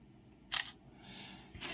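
A short, crisp camera shutter click from an LG G Stylo phone sounds once, followed by a soft whirring hum and then another click starting at the end.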